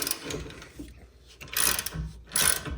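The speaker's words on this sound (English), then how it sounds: "You can go ahead and just tighten them down." Ratchet wrench tightening the bolts on a 2015–2024 Mustang rear axle during axle seal replacement, heard as two close bursts of rapid metallic clicking with quieter handling noise in between.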